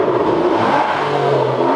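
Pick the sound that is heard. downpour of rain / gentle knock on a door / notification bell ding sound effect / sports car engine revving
sports car engine revving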